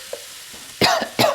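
A person coughs twice in quick succession, close and fairly loud, in a home kitchen where chicken curry is being cooked, with faint frying and stirring noises underneath.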